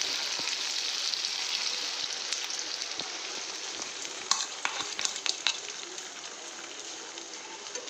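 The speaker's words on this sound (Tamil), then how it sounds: "இப்போ நம்ம மிக்ஸ் பண்ணி வச்சுருந்த எக் இதில் சேர்த்துடலாம்." Beaten eggs poured over tomatoes in a hot pan sizzle and crackle steadily, with bright spatters and occasional scraping stirs close by.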